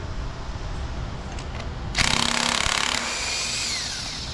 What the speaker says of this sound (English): It's a hell of an impact gun.